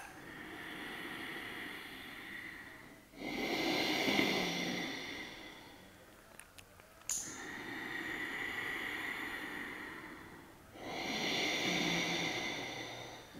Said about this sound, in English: I'm going to do it with you so you can hear the resonance of the breath